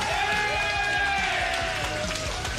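Crowd cheering and applauding after a knockout blow at a slap-fighting contest, a steady roar of voices and clapping throughout, with an announcer's voice over it.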